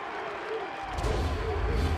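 A baseball crowd at a college regional game between Wake Forest and East Carolina roars after a single to center, a dense, swelling cheer that grows louder midway and holds steady.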